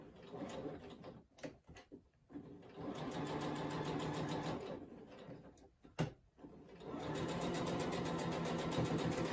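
A sewing machine runs in bursts as it stitches fabric for a handmade toy giraffe, its rapid mechanical whirr stopping twice for brief pauses with small clicks before resuming.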